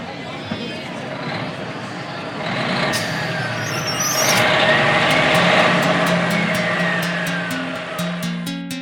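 A bus with air brakes: steady engine rumble and a hiss of air brakes build over several seconds, then a run of sharp evenly spaced clicks near the end, loud and close, with no speech over it.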